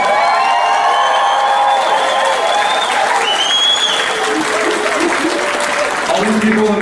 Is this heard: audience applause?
yes